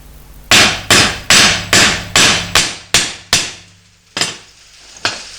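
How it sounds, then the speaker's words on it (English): Hammer blows pound a motorcycle bobber fender to shape its curve, about nine sharp metallic strikes in a steady rhythm with ringing decay, loud and close, the last two more spaced out. "pounded it with a hammer to try and get that curve a little closer"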